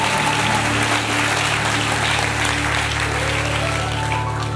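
A church congregation claps and cheers, a dense, continuous wash of applause mixed with crowd noise and a sustained organ-like tone underneath, loud and unbroken.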